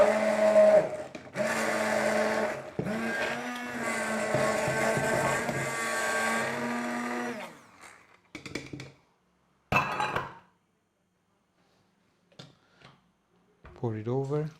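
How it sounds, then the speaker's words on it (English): A hand blender whirs loudly through a marinade of white wine and bay leaf for several seconds, then stops, followed by a few brief clatters and a short burst of sound. "Hand blender."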